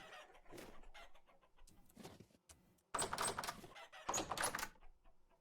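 Chickens cluck in a video game in a series of short bursts and squawks, moderately loud and close, with gaps between calls.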